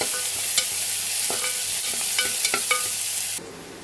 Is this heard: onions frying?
yes